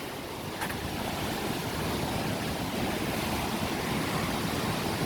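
Water rushes through the gates of the East Race Waterway on the St. Joe River in South Bend, Indiana, a loud, constant roar with the churn of turbulent flow and no speech.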